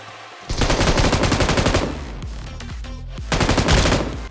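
An M249 fires in the game BGMI during a drop shot: two long, loud, rapid automatic bursts, the first running about a second and a half, then a short gap with a few scattered shots before the second burst.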